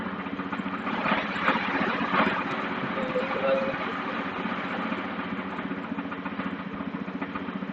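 A running engine at a 2021 Central Java vocational student skills competition, held at high RPM, makes a steady, continuous drone with even rhythm throughout, loud and close, with faint voices in the background.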